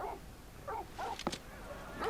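Short high-pitched dog whimpers and yips in the video game Final Fantasy 16 repeat in quick succession, with a sharp click in the middle, fairly close and moderately loud.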